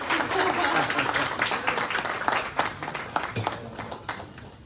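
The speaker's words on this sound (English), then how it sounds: "can we just please give him a round of applause?" An audience in a room at a faith and community keynote event breaks into sustained applause, dense and steady throughout, slowly thinning toward the end.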